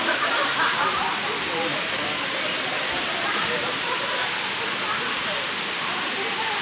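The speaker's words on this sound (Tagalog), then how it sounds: "Tanay Falls." Tanay Falls waterfall in Tanay, Rizal, roaring as a steady, dense rush of falling water that stays even and close throughout.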